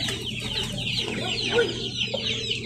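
Chicks and chickens clucking while being fed feed for young chicks, with a continuous close chorus of soft clucks and peeps and occasional higher chirps.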